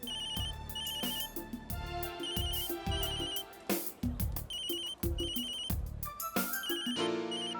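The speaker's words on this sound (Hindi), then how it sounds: "फोन।" A telephone ringtone plays a bright, repeating electronic melody, loud and continuous, with no one speaking over it.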